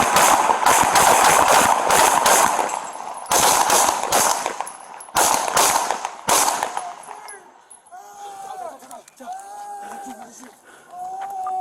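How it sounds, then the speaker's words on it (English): Gunshots ring out during a police confrontation in a Miami-Dade park, a rapid volley of sharp, loud cracks in clustered bursts, followed by shouting voices and radio chatter as the firing stops. "Shots fired."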